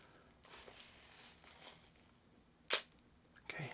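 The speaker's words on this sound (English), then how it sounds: "So we need to turn it on, and I'm going to flip the mirror up." A DSLR mirror flips up for sensor cleaning with a single sharp mechanical clack near the middle, followed by a smaller click at the end, over a quiet room.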